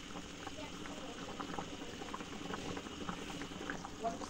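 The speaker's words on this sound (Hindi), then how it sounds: "देखो सब्जी उबल रहा है।" A pot of vegetables boils steadily with continuous bubbling and gurgling, a constant close-up churn of liquid throughout.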